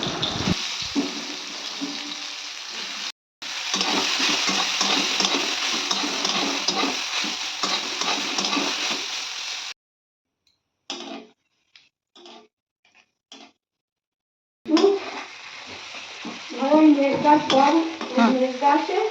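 Soybean chunks frying in a pan, with a loud, busy sizzle and stirring that stops abruptly, then a few scattered clinks and knocks. The frying returns briefly near the end.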